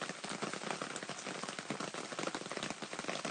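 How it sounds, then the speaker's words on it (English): Steady rain falls outside a cabin, a dense, even patter of drops on surfaces that stays constant throughout with no voices. "I like the sound of the rain."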